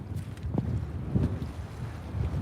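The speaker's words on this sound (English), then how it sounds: "how bad is the wind right now?" Wind gusting across a lake during bass fishing from a boat, a steady low buffeting roar against the microphone with faint water sounds underneath.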